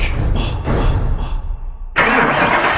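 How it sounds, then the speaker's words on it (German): A car engine starts in a Friday the 13th video game, with several short cranking bursts before it catches and settles into a loud, close running roar. "Unglaublich, der Motor ist an. Es ist ein Auto"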